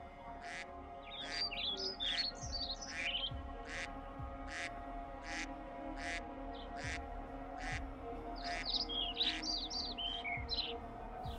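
Bright bird chirps and short warbling calls at the Île du Massereau bird reserve repeat over a low steady hum, coming in clusters with brief pauses between them.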